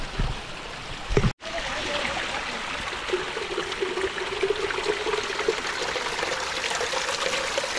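Water trickles from a small spring in dry, parched ground, a steady soft splashing and hiss that continues throughout after a short break near the start.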